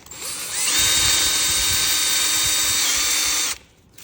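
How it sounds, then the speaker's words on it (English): A power drill drives self-drilling screws into a cheer stick assembly, one loud sustained high whine of about three seconds that starts and stops abruptly. "the reason I get those self-drilling screws is so that I don't have to work too hard to get them screwed in"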